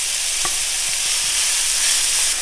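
Zucchini and mushrooms sizzle in butter and ghee in a cast iron skillet, a loud, even frying hiss with a few faint clicks underneath.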